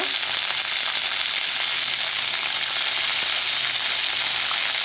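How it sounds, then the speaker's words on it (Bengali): Beans fry in a pan for a Bengali bean and potato curry, making a continuous bright sizzle that holds steady and close throughout, with no voices. "ভালো করে তোমরা বিনসগুলো ভেজে নেবে এইভাবে"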